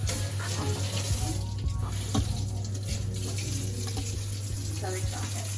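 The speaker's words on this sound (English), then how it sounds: "I'm gonna wash my hands." Tap water runs steadily into a kitchen sink as hands are washed between cooking steps for Lebanese chicken with freekeh, a continuous close hiss with a low hum underneath.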